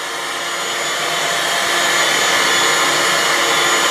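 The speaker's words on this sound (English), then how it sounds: "Vacuuming the floor." A child pushes a vacuum cleaner across a home floor, giving a steady, loud broadband motor whoosh that holds throughout without pause.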